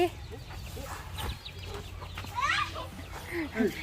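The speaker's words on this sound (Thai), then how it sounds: "ไก่เด้อไก่ไก่เด้อไก่" Chickens cluck and squawk in short bursts close by, mixed with children's voices and playful chatter in a lively yard.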